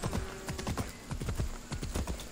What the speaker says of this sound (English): I guess I'm going to call my horse again